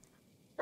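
A dog in the Blair Witch video game gives a single short, loud bark near the end, after a stretch of quiet low background.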